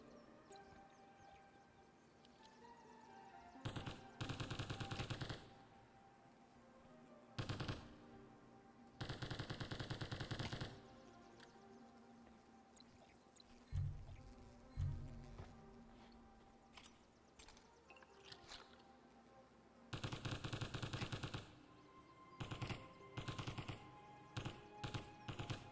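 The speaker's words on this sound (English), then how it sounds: "Might have to bust the submachine gun out for them." Bursts of rapid submachine gun fire in the shooting game Operation Wolf Returns, loud repeated volleys of a few seconds each separated by quieter gaps, with a couple of heavier single thumps mid-way.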